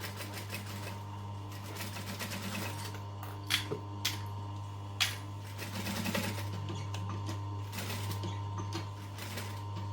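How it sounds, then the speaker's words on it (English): Sewing machine top stitching slowly around curves, a faint steady motor hum with soft mechanical clicks and a few sharper taps. "So be slow and steady with your curves so you get a nice top stitch."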